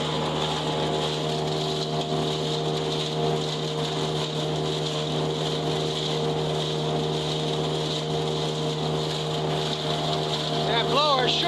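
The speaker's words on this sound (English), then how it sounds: "That blower should blow a little bit better than what it does." A hay chopper blower drones steadily as it chops old hay bales for bedding, a constant tonal machine hum with faint wind noise throughout.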